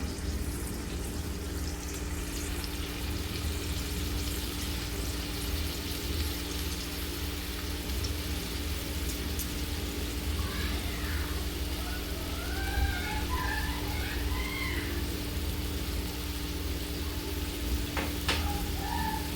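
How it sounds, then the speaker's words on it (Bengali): Sour-sweet-spicy star fruit chutney syrup boils in a pan at home, a steady bubbling hiss with soft gurgles and a few faint chirps in the background. "ঝোলটা মোটামুটি ফুটেই এসছে"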